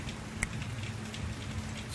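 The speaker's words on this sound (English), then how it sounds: "Feel these raindrops drenching you." Rain patters softly and steadily, with dense faint drops falling on leaves outdoors, one slightly sharper drop standing out, and no voices.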